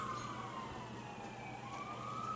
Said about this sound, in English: And more sirens incoming.